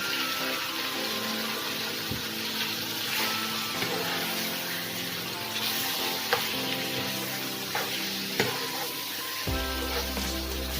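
Steady sizzling and frying of half a kilo of chicken in a pan with ginger-garlic paste, continuous and close, with occasional clinks and stirring sounds.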